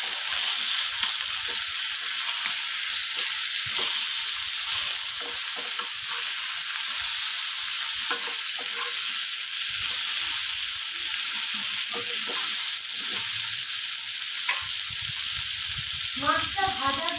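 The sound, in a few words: bhetki fish frying in oil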